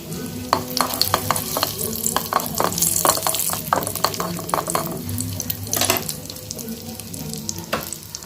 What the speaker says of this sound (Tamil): ஒரு சட்டியில் நெய் ஊற்றி வச்சுருக்கேன் அந்த இதில் திராட்சை சேர்த்துக்கலாம் திராட்சை நல்லா பொரியட்டும்